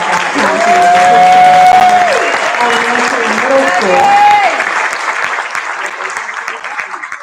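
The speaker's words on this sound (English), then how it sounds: "All right, another round of applause for our" Applause from a school board meeting audience for elementary and middle school musicians, a broad wash of clapping under a voice addressing the room, fading slightly toward the end.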